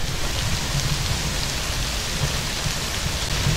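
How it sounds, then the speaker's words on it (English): Steady rain pours outdoors on a Friday afternoon, a dense, even hiss with low patter that holds unchanged from start to finish, with no voices. "It's raining."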